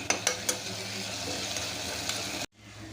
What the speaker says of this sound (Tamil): இந்த தக்காளி நல்லா சாஃப்டாகி வரட்டும் தக்காளி இதுவே தக்காளி போட்டுக்கலாம் இன்னும் நல்லா வதக்கி விடலாம்